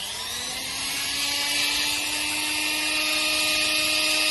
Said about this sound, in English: Now it's time to trim off using a Dremel, like lynch it off and shape it up,